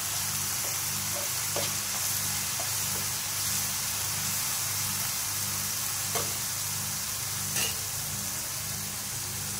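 Spice masala for dum pokto sizzling and frying in a pan, a steady close hiss with occasional stirring scrapes, with no talk.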